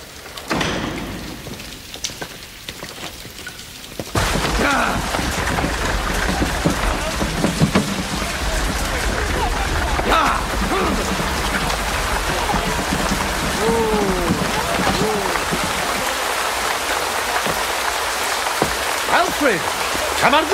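Steady rain pours down and patters on surfaces, a dense continuous hiss that starts abruptly after a few quieter seconds and keeps going.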